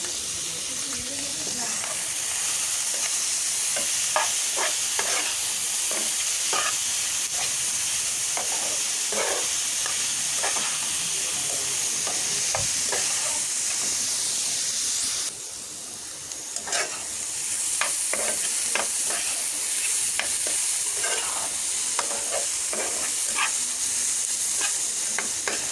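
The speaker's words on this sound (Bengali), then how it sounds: "পটল ভাজাটা একেবারে হয়ে গেছে" Pointed gourd with green chillies, salt and turmeric frying in a pan, a steady close hiss of sizzling broken by repeated spatula scrapes and taps, with occasional talk in the background.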